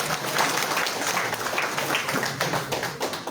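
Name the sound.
audience applause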